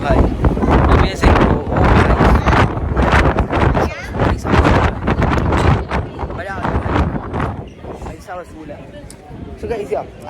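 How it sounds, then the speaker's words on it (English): Strong wind buffets the microphone on the Shibuya Sky rooftop in Tokyo, a loud continuous roar and rumble with excited talking over it. "Oh my god, it's so windy."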